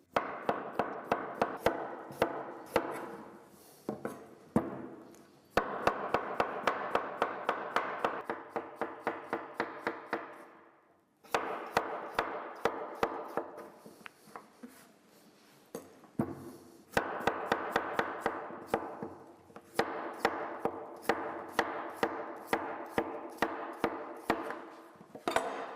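Knife chopping potatoes and broccoli on a board at close range, in rapid, even runs of crisp strokes broken by brief pauses, fairly quiet overall and with no voices.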